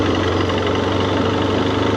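A 2009 BMW F800S motorcycle engine running steadily, a loud, even drone with a constant low hum and no talk.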